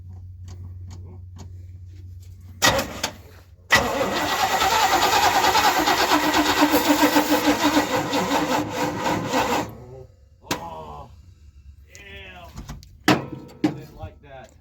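An old Chevrolet one-ton truck engine that has sat for 20 years cranks over loudly for about six seconds in one steady grinding burst, with brief knocks and clunks before and after and a voice speaking between.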